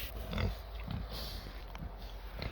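Pigs on a small farm grunt and oink in short low bursts, several scattered snorts at close range over a quiet background.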